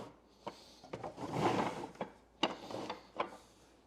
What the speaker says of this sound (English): and the doors roll really smoothly